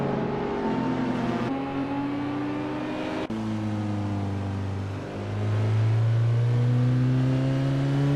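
A 1987 Mitsubishi Galant VR-4 race car's engine revs loudly and steadily in a video game race, its pitch climbing and shifting through gears as it accelerates, with no voices over it.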